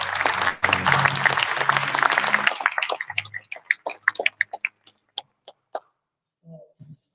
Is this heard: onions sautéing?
no